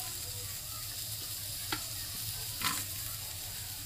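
Onion and grated coconut roast in a hot pan with a low steady sizzle, and two brief scraping stir sounds stand out near the middle and end.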